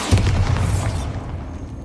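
A Bombarda spell explosion in the Hogwarts Legacy video game sounds as one loud, deep boom with a bright crack at the start, then a rumbling tail that fades over about a second.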